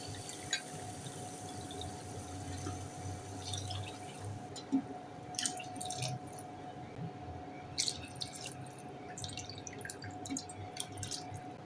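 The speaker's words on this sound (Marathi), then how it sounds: "आता आपण याच्यामध्ये चार वाटी पाणी घालूया" Water being poured from a cup into rice in a cooking pot, soft quiet splashes and drips that come in short bursts, heard close with no talking.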